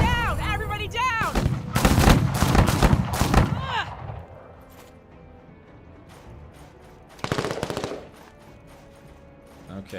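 Bursts of video-game machine gun fire rattle loudly at the start, several rapid volleys over about four seconds, followed by quieter scattered shots and another short burst later on.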